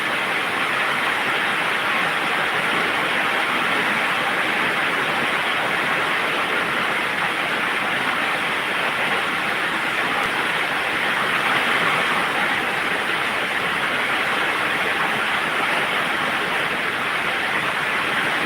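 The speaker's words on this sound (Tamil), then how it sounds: "பெரிய மழை இல்லை, சின்ன மழை தான். அந்த சவுண்டு தான் ஓவராக இருக்குது." Light rain falls steadily and sounds loud, a continuous broadband hiss that stays even and close throughout with no talking.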